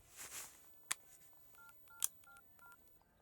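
A telephone number dialed on a keypad, a string of short separate DTMF tones at an uneven pace, heard quietly, preceded by a couple of louder clicks and thumps, with no one speaking.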